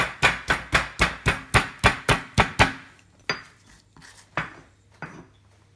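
About ten quick, regular pounding thuds of garlic being crushed, evenly spaced and close, then a few slower, scattered knocks as it stops.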